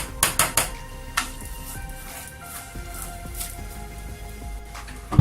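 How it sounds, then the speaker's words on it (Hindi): Vermicelli frying in hot oil for sheer khurma, stirred in a pan, with sharp metallic clanks of a utensil against the pan at the start and scattered scraping over a steady soft sizzle, ending in a louder knock. "सेवियों को हम फ्राई करते हैं। इनको साथ साथ हिलाते रहेंगे।"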